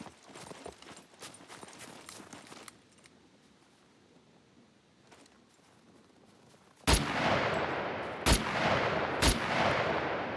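Gunfire from an AKM in the SCUM survival game, fired at a fence: after a stretch of quiet clicks and faint rustling, three loud, sharp shots ring out with a lingering reverberant tail between them.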